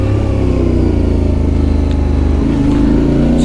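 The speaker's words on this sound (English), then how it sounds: "Situations like that car coming towards you" Loud, close motorcycle engine drone on an Albanian road, a steady mid-pitched hum with a slight shift partway through as a car approaches, with no clear separate pass-by.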